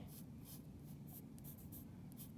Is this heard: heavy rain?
no